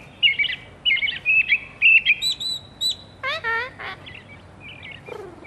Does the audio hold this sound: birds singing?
yes